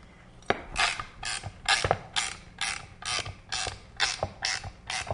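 A Wizard embossing machine runs an Impressabilities template through, making a steady series of about ten rhythmic ratcheting clunks, each with a short grinding creak, close and moderately loud.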